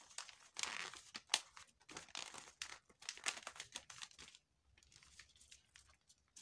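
A paper bodice pattern is folded by hand at close range, with quiet crinkling and rustling in short bursts. The sound stops briefly, then turns to softer handling.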